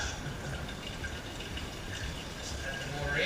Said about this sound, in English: Just add the water in.